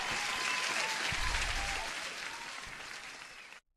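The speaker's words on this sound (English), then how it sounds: "Let me give you an applause before the music comes in." A canned applause sound effect plays on a live day-trading stream, a full wash of crowd clapping and cheering that holds steady, gradually softens, then cuts off abruptly.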